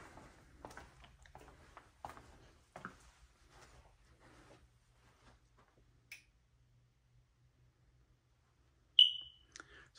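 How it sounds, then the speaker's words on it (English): A new-construction home's smoke detector gives a single sharp, high chirp signalling a low battery, heard clearly in a quiet room after some soft background sounds. "this is the smoke detector that needs battery replacement"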